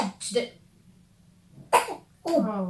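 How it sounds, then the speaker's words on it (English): A woman coughs a couple of times, close and fairly quiet, with short pauses in between and a low hum underneath. "baby, she's coughing."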